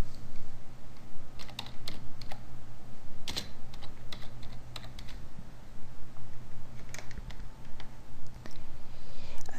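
Rapid, close typing on a computer keyboard enters a group name, with irregular clusters of key clicks and a few louder taps running throughout.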